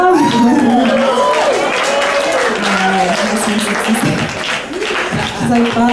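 Audience at a live Kill Tony comedy show breaks into sustained applause and cheering, with laughter and talking voices mixed through the steady crowd noise.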